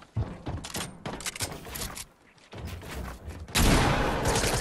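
Assault rifle fire in Fortnite: repeated sharp cracks spread across the stretch over dense game noise, ending in a louder, sustained blast of gunfire.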